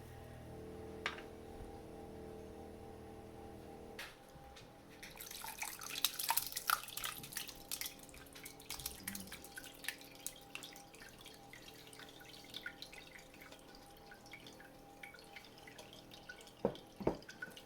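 Whey drips steadily from cheese curds draining in a cloth, soft irregular drops and trickles close by in a quiet room, a few louder plinks near the end.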